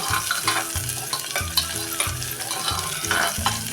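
Finely chopped medium onion sautéing in a pan for a bitter gourd dish, a steady close sizzle broken by repeated scraping stirs of a spatula at a quick, uneven rhythm, with no voices.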